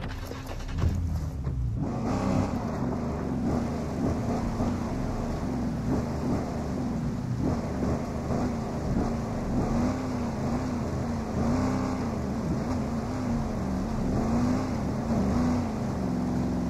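A vehicle engine drones steadily with a low hum throughout a drive in the video game Ghost Recon Breakpoint, loud and continuous, with a broad mid-range rumble.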